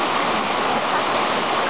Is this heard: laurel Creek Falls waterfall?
yes